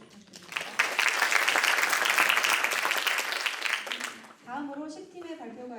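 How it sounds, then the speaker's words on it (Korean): An audience claps for a student's presentation at a gifted-youth entrepreneur program graduation, steady applause building and holding for about three seconds, then fading as a voice begins talking. "발표 준비를 위해 고생했을 권준희 학생에게 큰 박수 부탁드립니다"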